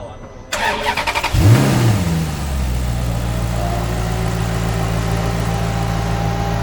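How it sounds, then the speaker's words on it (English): Maserati V8 engine cranks and fires, revs sharply once, then settles into a steady, loud, smooth idle close by, with a low rumbling drone holding for several seconds. "Take a listen to the V8 engine."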